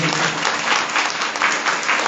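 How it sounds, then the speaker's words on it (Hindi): Loud, close applause from a church congregation, with many hands clapping in a dense, steady burst that lasts the full two seconds. "जोरदार ताली"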